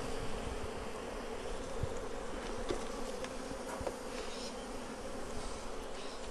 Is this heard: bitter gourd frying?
no